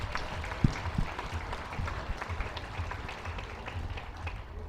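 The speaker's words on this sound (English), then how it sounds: "share with me one more big round of applause for all these individuals" Faint, distant applause from a crowd at a junior dairy show at a county fair, a steady patter of clapping with a few sharper claps standing out early on.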